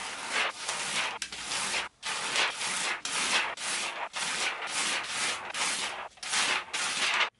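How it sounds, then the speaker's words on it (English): Crackly, papery peeling of DTF transfer film from prints in long rasping strokes with brief pauses between them, close-up and crisp, with no talking. "I'm gonna do the peeling ASMR for the DTF prints because I love that sound."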